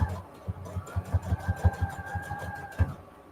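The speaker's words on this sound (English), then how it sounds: "I'm trying to sew that down." A sewing machine stitches fabric for a junk journal pouch, a close, rapid series of rhythmic mechanical thumps and whirring in short runs, with a faint motor whine underneath.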